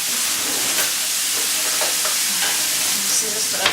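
Free-range egg noodles stir-fried in a hot pan, a loud continuous sizzle and hiss with scattered scraping and tossing knocks, close up.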